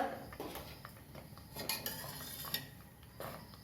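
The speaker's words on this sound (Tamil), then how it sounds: "இன்னும் கொஞ்சம் நேரம் கிண்டி இறக்கலாம்" Utensil scraping and clinking in a pot while sweet pongal made with jaggery is stirred, soft irregular scrapes and taps close by with no talking.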